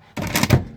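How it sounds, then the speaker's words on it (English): Oven door swung shut with a single dull thunk after fish fingers go in to bake, a short solid knock with a brief rattle, close and alone. "Close the door."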